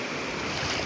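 Morning sea waves roll in at Bouznika beach in Morocco, a steady, loud wash of surf mixed with wind buffeting the microphone.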